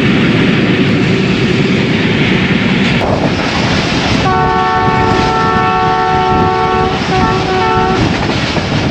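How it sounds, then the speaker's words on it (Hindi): The Ravi Express, hauled by a ZCU-20 locomotive at 70 km/h, gives a loud, steady on-board rumble and rattle, with the horn blaring for about four seconds midway before the rolling roar carries on. "तो अभी 70 किलोमीटर फी घंटा की रफ़्तार से दौड़ रहा है ZCU-20"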